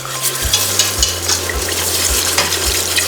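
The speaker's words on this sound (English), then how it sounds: "we can start to add our full cream milk straight into the pan and give it a good whisk as you're adding the milk" A whisk stirs full cream milk into a butter and flour roux in a hot pan, a close, steady sizzling hiss with rhythmic scraping strokes about twice a second.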